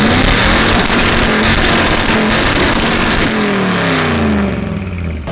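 A 1971 small-block car engine revs hard and close, a loud, rough, sustained roar whose pitch climbs toward the end at an offroad meet.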